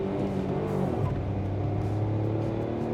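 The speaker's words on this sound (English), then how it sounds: "hard launch. Listen to the engine." A Maruti Suzuki Dzire with a 1.2-litre three-cylinder engine and manual gearbox launches hard, the engine note climbing steadily in pitch, with a brief drop at a gear change before rising again, heard close and continuous.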